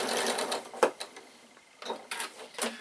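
Sewing machine stitching diagonally across fabric for a piped bag, heard as a near, steady mechanical whirr in two short bursts separated by a quiet pause.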